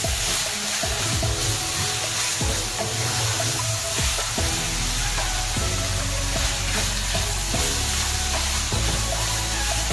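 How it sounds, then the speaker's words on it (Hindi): Chopped minced mutton keema is stirred and mixed on a hot tawa, with steady loud sizzling and frying and repeated scraping strokes of the spatula throughout, no voices. "इस तरह से चॉप हुआ हुआ इसको अब मिक्स करते हैं।"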